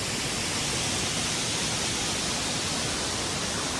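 Banyumala Waterfall in Bali pours down in a steady, dense roar of cascading water that stays even and unbroken throughout, with no voices.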